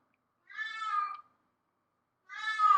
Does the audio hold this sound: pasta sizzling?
no